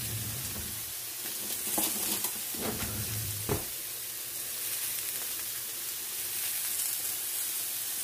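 Vegetables and salted potatoes sizzle steadily in a frying pan for a vegetable ratatouille, a constant close hiss with a few brief clinks and stirring sounds partway through.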